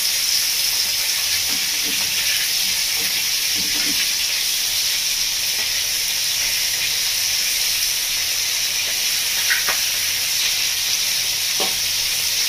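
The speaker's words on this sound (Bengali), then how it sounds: "বন্ধুরা মাছগুলো ভালো করে ভেজে নেব।" Giant freshwater prawns frying in a pan for a Bengali village-style curry, a steady loud sizzling hiss with a few soft clinks of stirring.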